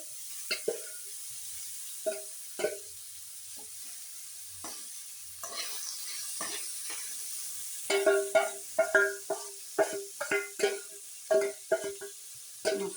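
Soya chunks are tipped into a spiced masala frying in a pan, with irregular scraping stirs and soft plops over a low sizzle that grows busier and more rhythmic in the second half; no voices.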